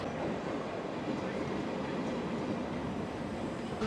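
Steady rumble of a passenger train in Italy bound for Venezia Mestre, a broad continuous interior drone that holds level throughout with a brief bump near the end.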